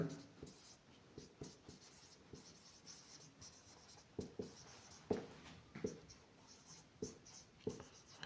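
Handwriting a mathematical proof: a pen scratching in short strokes and taps, close and moderately loud, with a rhythmic run of quick marks in the latter half and no clear talk.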